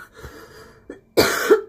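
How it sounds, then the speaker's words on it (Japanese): One person coughs during an indoor live stream, with a faint small cough first and then a louder, harsher burst of two close coughs near the end. "ちょっとまた咳です"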